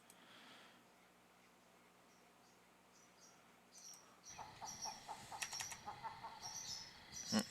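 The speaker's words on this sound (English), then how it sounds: "Sounds like my birds are awake" Several pet birds chirp and tweet in short, bright bursts that start partway through, faint at first and then more active and close, over a quiet room.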